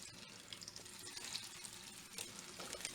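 Chicken meatballs sear in butter in a pan with a faint, steady sizzle and crackle that runs throughout without pause.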